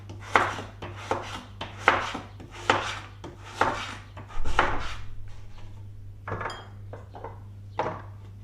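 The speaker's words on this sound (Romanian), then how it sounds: "Tăiem țelina în felii subțiri." A knife slices celery into thin slices on a board, a regular series of crisp close chops about every second, then a softer scraping stretch and a few more cuts, with a low steady hum underneath.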